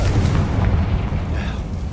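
A Confringo blasting spell explodes in the Hogwarts Legacy video game, a loud, deep rumbling boom that holds steady for two seconds with no talk.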